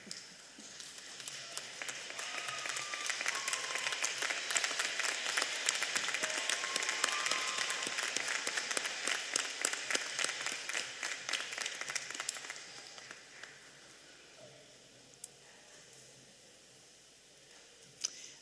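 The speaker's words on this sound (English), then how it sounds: "pick those persons and applaud them with the same exuberance that they" Graduates at the Penn State Wilkes-Barre graduation ceremony applaud their supporters in a long, dense burst of clapping that holds steady for about twelve seconds, then fades to scattered quiet noise and a couple of isolated claps.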